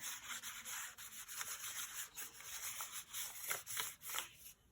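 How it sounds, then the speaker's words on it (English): Colour being rubbed by hand over paper in a junk journal: a steady, close, soft scratchy rubbing in quick back-and-forth strokes that continues without pause. "Just rub it all over."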